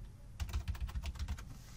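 Soft, quick keystrokes on a computer keyboard, a short burst of about a dozen light clicks at close range with no voices.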